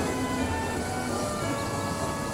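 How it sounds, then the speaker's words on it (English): An express passenger train rushes past in a continuous loud, close roar and growl, held steady and unbroken throughout, with no voices. "The Limited rushed by with a growl and a roar."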